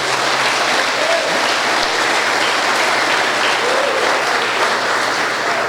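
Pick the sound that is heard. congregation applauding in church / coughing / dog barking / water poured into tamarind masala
congregation applauding in church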